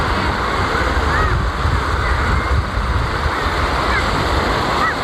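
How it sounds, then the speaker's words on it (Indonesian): Sea waves wash steadily onto Seranit Beach in Banyuwangi, a loud continuous surf roar with wind noise and no pauses. "Kita akan menuju ke lautannya teman-teman, ke pantainya."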